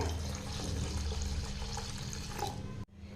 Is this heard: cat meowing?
no